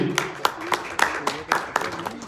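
Audience applause at a press conference in Jaipur, scattered claps rising in bursts over a room murmur, fairly close and moderately loud, with voices talking underneath.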